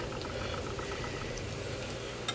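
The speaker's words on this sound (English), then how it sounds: "you know it's hot enough when it sizzles when you pour the Yorkshire batter in." Yorkshire pudding batter poured into hot oil in a tin makes a steady, close bubbling sizzle with a few faint pops, continuous and without speech.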